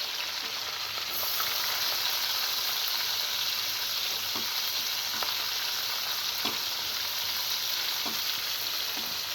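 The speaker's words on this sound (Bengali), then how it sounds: "আমি এখন এখানে দিয়ে দেব, এই তেলের মধ্যেই দিয়ে দেব আমি পেঁয়াজ কুচি" Chopped onion frying in hot oil, a steady loud sizzle with occasional stirring clicks and scrapes from the pan, no voices.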